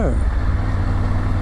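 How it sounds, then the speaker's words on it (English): A Mazda MX-5 sports car passes on a twisty rainforest road, a brief loud engine rush that falls away quickly over steady road and wind noise. "Nice little Mazda MX-5"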